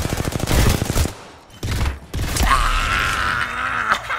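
Rapid bursts of video game gunfire rattle loudly in short clusters, cutting out briefly before a sustained mechanical whir and creaking rumble take over near the end.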